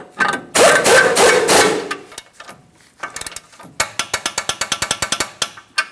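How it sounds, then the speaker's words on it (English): Tie rod end mounting nut on a Ford Transit being tightened with a hand ratchet: a brief burst of handling noise, then a close, rapid series of sharp ratcheting clicks. "Go ahead and start on our mounting nut. After that, we can bottom it out, and I'm going to torque that to 59 foot-pounds."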